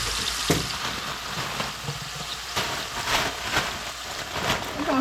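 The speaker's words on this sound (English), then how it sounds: "We're gonna have some broccoli and stir fry here." A chicken teriyaki stir-fry with broccoli sizzles in a pan, giving a continuous crackling hiss with a few sharper pops and clinks.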